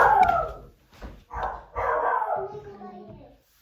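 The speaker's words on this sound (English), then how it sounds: "Dogs bark at the postman, don't they?" A dog barking at the postman on a residential lane, several loud, close barks and yelping howls in uneven bursts over a few seconds, with possible voices mixed in.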